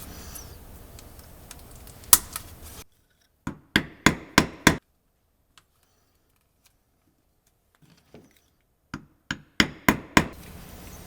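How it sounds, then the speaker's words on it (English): Speedy rivets set with a hammer on a leather holster strap, heard as two close bursts of five and six sharp strikes separated by near silence. "I'm attaching the strap with double capped speedy rivets."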